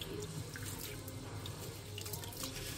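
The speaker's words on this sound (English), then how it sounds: "Wash your rice. Wash it about 3 times already." Rice is washed under water in a kitchen sink, with continuous splashing and trickling from a running tap and no one speaking.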